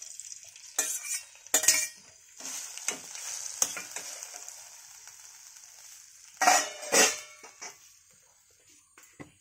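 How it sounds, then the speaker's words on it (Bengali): Kochur loti (taro stolons) fry in oil in a pan, a soft sizzle running beneath repeated sharp scrapes and clinks of a spatula stirring against the metal, with two louder bursts of stirring near the end. "এবার কসুরলতি ভেজে নেব, তেল দিয়ে দিচ্ছি"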